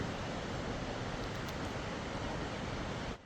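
Water rushing through a rocky riverbed, a loud broadband roar that stays steady and unbroken for the whole stretch before dropping off abruptly at the end, with no voices.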